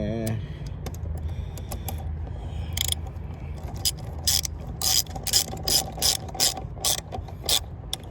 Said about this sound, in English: this is a 8mm socket, so you're just gonna tighten this back